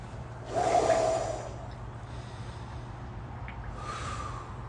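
Someone sitting in a 32-degree ice bath breathes heavily, with one loud, sharp breath near the start and then quieter, slower breathing against a low steady hum.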